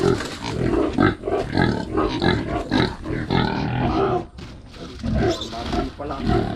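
Pigs in a pen grunt and squeal loudly and steadily, close by, while people talk over them.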